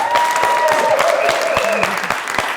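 A studio audience at a Georgian TV talk show claps in loud, dense, sustained applause, close and steady with a few sharper individual claps standing out.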